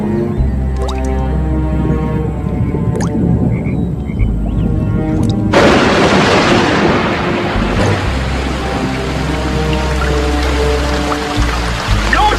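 A deep rumble of thunder rolls underneath steady rain and dripping water, with frogs croaking at times.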